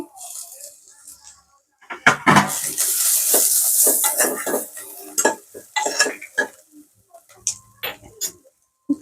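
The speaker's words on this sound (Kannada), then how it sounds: "ಚೆನ್ನಾಗಿ ಇದು ಹಸಿ ವಾಸನೆ ಹೋಗೋ ತನಕ ಫ್ರೈ ಮಾಡ್ಕೊಳ್ಳಿ" Masala frying with mutton fat in a pan for mutton soup: a brief burst of sizzling, then repeated clatter and scraping of a utensil stirring against the pan, close and fairly loud.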